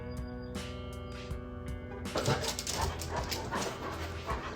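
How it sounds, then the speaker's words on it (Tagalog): Dogs whimpering and yipping in high-pitched bursts, then a rough, scuffling stretch of playful growls and movement, fairly close. "Pagpasensya na yung mga aso namin naglalaro."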